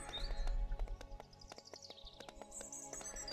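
Galloping horse in the survival video game Alek the Lost Kingdom, its quick rhythmic hoofbeats steady and fairly close over a layer of game music and ambient chirps, with no talk.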